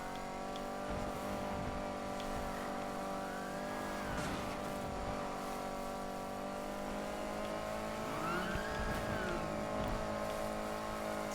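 A car engine in the racing game Need for Speed Heat holds a steady drone, with two gradual rising revs as it gains speed and faint tire noise underneath. The car sounds close and constant, with no voices.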